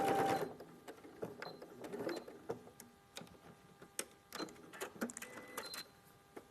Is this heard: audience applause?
no